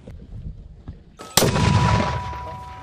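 A mortar fires during U.S. Army combat training in Croatia: a single sharp, loud blast lands after a short stretch of quieter background noise with faint thuds, then rings and decays into a long, rumbling tail.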